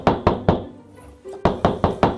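Heavy knocks on a large castle door: three sharp raps, a short pause, then five more in a steady rhythm, loud and close with a dull wooden boom.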